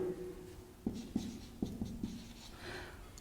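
Chalk or marker strokes on a board while a math problem is worked out, a handful of short scratchy taps and scrapes in quick succession, close and fairly quiet, with no talking.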